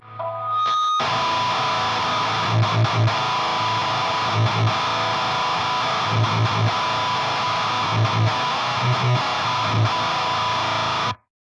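A sustained, heavily distorted electric guitar suspended second chord through a Boss HM-2 pedal rings out loud and steady for several seconds, then cuts off abruptly.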